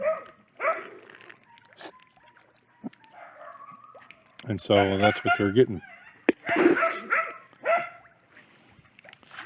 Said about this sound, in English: Neighbor's dogs barking at something.